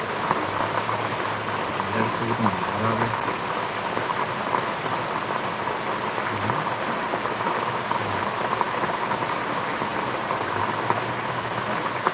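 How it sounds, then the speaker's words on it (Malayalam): Heavy rain pours down in a continuous, dense roar, with faint low rumbles underneath and no speech. "ഭയങ്കര മഴയാണ്"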